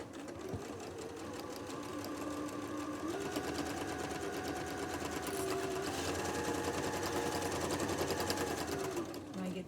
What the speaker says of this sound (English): I'm going to start at the edge. I'm going to sew forwards. I'm going to reverse.